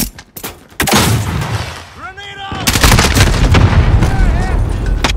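A grenade detonates during a Call of Duty Modern Warfare multiplayer match, a loud close blast among rapid gunfire bursts, with a brief tonal game callout in between and the din continuing afterward.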